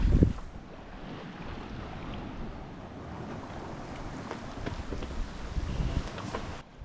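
A sailboat beats upwind through choppy water, the hull hissing and slapping over short waves while steady wind rushes across the microphone, a continuous broad wash with small surges throughout.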